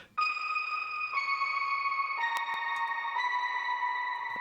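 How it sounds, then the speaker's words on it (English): Twinkly synth from the TAL-U-NO-LX Juno emulator with chorus and reverb, sustained shimmering bell-like tones stepping down in pitch every second or so, clean and alone. "that's made out of just this Juno emulator, Taluno LX, you know, with like the frequency turned down, with the chorus up, and some reverb"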